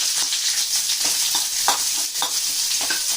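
Onions sizzle in hot oil, a steady bright crackle with occasional stirring scrapes, close up and continuous.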